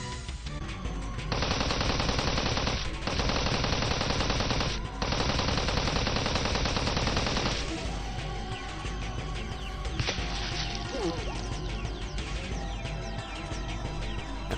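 Gunfire in the Steins;Gate 0 anime, long sustained bursts of automatic fire in a hail of shots, loud and dense, then dying into scattered shots and clatter.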